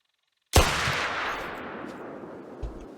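A single loud rifle shot from the hunting game The Hunter: Call of the Wild cracks out sharply and rolls off into a long, fading echo tail, with a faint thump near the end.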